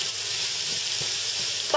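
Bacon frying in a pan gives a steady, close, hissing sizzle with a few faint pops, and nobody talks over it.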